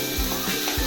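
Spiced onions with cumin, asafoetida and curry leaves fry in a pan as tomato is added, a close, loud sizzling hiss with a few soft low thumps, no talking.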